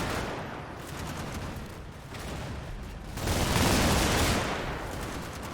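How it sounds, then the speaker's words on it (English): Mortar barrage in the WW2 game Combat Mission: Normandy, a 50mm light mortar pounding a British 6-pounder anti-tank gun: dense overlapping blasts and crackling fire, swelling louder midway, then easing slightly. "The British 6-pounder anti-tank gun that my machine gunner earlier kind of whiffed on and wasn't able to hit is now being taken out by a barrage from my 50mm light mortar"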